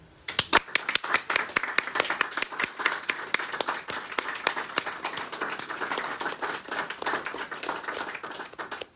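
A church congregation applauds a newly ordained priest at an ordination service, with steady, moderately distant clapping of many hands that continues for several seconds.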